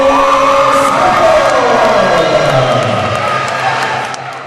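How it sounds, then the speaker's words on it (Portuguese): Excited crowd at a regional boxing event cheers and whoops loudly and continuously, a dense roar of voices with scattered clapping that tapers slightly at the end. "A torcida empolgada prestigiou e vibrou com a atuação dos atletas."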